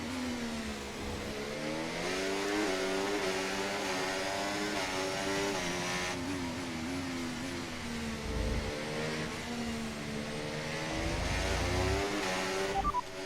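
F1 race car engines scream through the Azerbaijan Grand Prix in the F1 24 video game, a sustained high-pitched whine rising and falling with gear changes and acceleration, loud and continuous with no voices.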